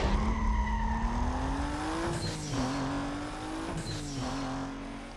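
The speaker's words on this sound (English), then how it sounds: "A Toyota Supra is what we are driving." A tuned Toyota Supra with stage 1 upgrades drives in Need for Speed: Most Wanted (2005, PS2), its engine a loud, steady drone that climbs in pitch and dips twice as gears shift.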